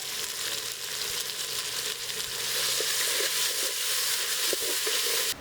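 Onions and tomatoes frying in a pan for a dal tadka, a steady close hiss of sizzling oil running throughout with small pops and spatters and occasional faint stirring, no voices.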